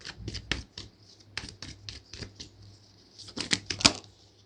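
Crisp riffling and flicking of a tarot deck being shuffled by hand, close and fairly quiet, coming in uneven bursts of card slaps with short pauses between them.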